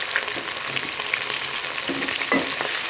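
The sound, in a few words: chopped onions frying in ghee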